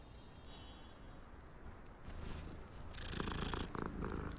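Cat purring in the video game Hogwarts Legacy, a low steady rumble that starts faint and swells louder in the second half, mixed with game ambience.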